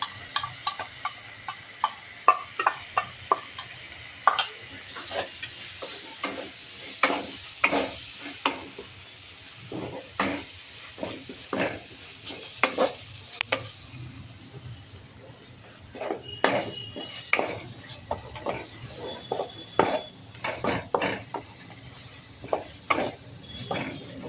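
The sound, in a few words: stirring chopped fried egg into masala in a pan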